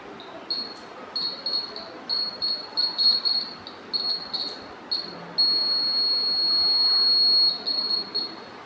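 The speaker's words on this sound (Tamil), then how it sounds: "இந்த உலோக குண்டு வந்து இந்த பின்னில் படும்போது ஒலிக்குது, பஸர் வந்து ஒலிக்குது" Buzzer of a homemade earthquake alarm set off when a metal ball touches a pin, giving a high electronic tone in repeated short bursts, then one long continuous buzz, over faint background noise.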